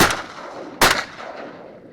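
Two sharp shotgun blasts at a duck hunt in Florida, one at the very start and a second, louder one just under a second later, each with a long fading outdoor echo.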